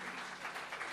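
A brief, faint burst of dense audience clapping at a Hindu religious discourse, steady and without talk.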